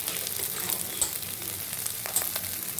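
Brinjal pieces fry in a pan with a steady, dense sizzle close to the listener. A few faint clinks of stirring come through the sizzle.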